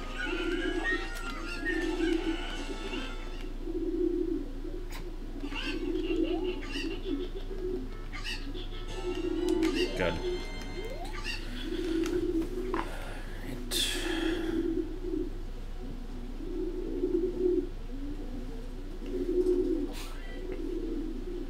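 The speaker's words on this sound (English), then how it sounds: "Here's Flock of Pigeons, Sound FX, but nature sounds serious." A flock of pigeons coos in a nature sound effect, with repeated low rhythmic cooing phrases in regular bursts, scattered sharper chirps and rustles, and a steady low hum underneath.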